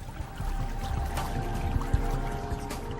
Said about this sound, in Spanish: Los pilares inyectan burbujas de aire en el agua.